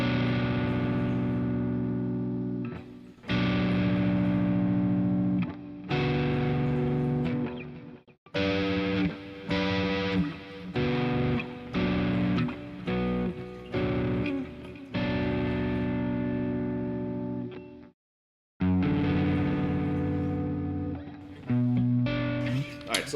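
Electric guitar strumming triad chords voiced with the middle note raised an octave for a cleaner sound, played through effects with distortion and chorus, loud and sustained with short pauses between chords.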